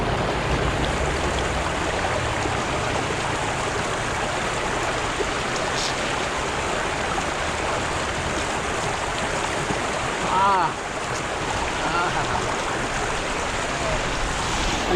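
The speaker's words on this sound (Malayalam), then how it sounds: "ഇവിടെ നല്ല ഫ്രഷ് വാട്ടർ അങ്ങനെ ഒലിച്ച് വരുന്നുണ്ട്." Clear, cold fresh water streams down a hillside in Nepal, a steady broadband rush heard close up and unbroken, with a brief louder splash partway through.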